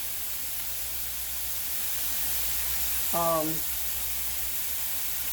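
Shrimp and vegetables cooking over high heat in a hot pan, a steady, fairly faint hiss and sizzle running throughout, with a short voice briefly sounding over it midway.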